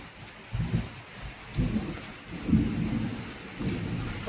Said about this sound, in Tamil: பாருங்க மழை இடி இடிக்குது.